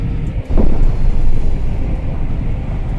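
Broad steady engine roar of an aircraft in the video game Flight of Nova, a continuous low rumble with airy noise held at an even level for about three seconds, no voices over it.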